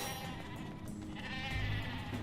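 Sheep bleating in the Ratchet & Clank video game, a wavering, nasal bleat heard over game music and a low rumbling background, fairly loud and sustained.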